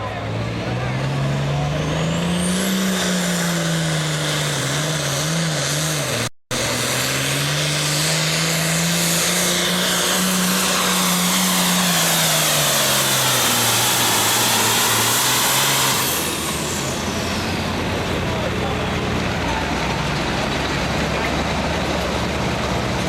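Loud, roaring tractor-pulling engines strain continuously at a tractor pull, with rising and falling pitch, filling the whole stretch, a brief cutout partway through, with a voice talking over them.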